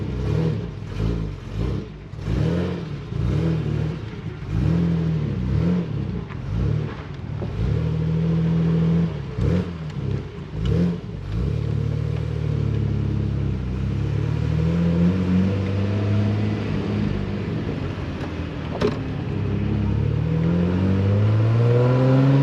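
A 1967 Triumph Vitesse car drives along with its engine running, a loud close drone that rises and falls in pitch through repeated revs and gear changes, then settles into a smoother steady hum.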